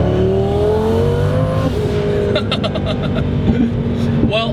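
A twin turbo Lamborghini Gallardo with 1200 horsepower accelerates onto a highway, its engine droning loudly and rising in pitch, then shifting with a few sharp bursts and pops over steady road roar.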